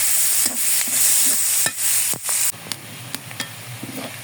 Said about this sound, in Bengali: পেঁয়াজটা একবার বাদামি কালার করে নিলাম